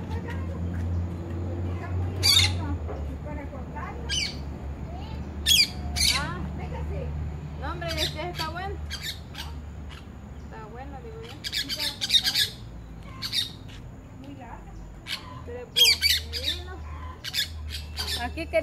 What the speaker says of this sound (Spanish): Ay, el perico me agarra la cabeza.